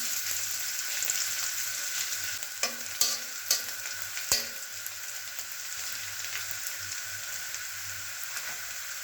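Onion fries gently in a pan for a mixed vegetable dish, a soft steady sizzle with a few sharp stirring clicks and scrapes near the middle.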